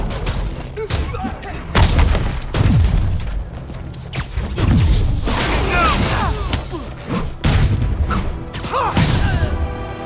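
Gunfire and heavy thuds from the PS4 game Marvel's Spider-Man, Game of the Year Edition, with repeated booms and crashes mixed under game dialogue and sound effects throughout.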